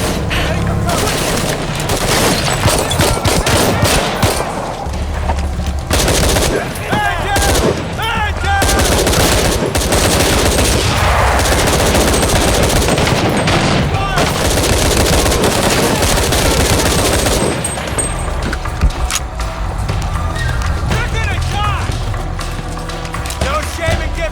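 Heavy gunfire in a firefight in Shadow of the Tomb Raider, with dense automatic bursts and booming shots filling nearly the whole stretch, loud and close, easing into quieter scattered fire near the end.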